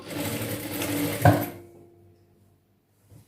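A tailoring sewing machine stitches piping onto the main cloth of a six-piece chudidhar top, running in one quick close burst of about a second and a half before stopping, followed by a faint knock.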